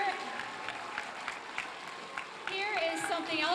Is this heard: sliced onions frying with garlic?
no